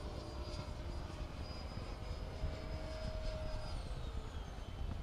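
A Hobbyking Tornado 75 RC plane on 6S power climbs at full throttle, giving a steady, fairly distant motor whine and propeller buzz with a slowly shifting pitch over outdoor background noise, with no talking.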